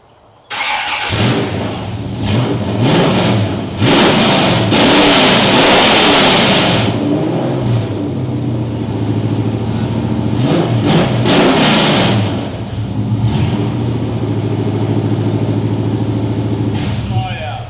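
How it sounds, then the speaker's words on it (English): A car engine with a muffler delete starts and revs hard, loud and close, in repeated rising bursts over a rough idle, with people whooping and talking over it. "see what this thing sounds like with the muffler delete"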